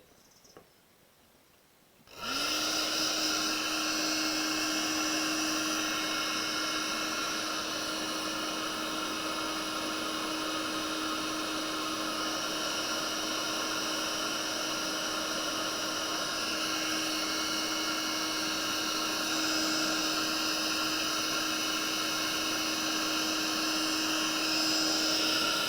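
A hair dryer blows on acrylic paint in a lavender-field painting, switching on after a brief quiet moment and then running as a steady, loud whirring drone for over twenty seconds without talk.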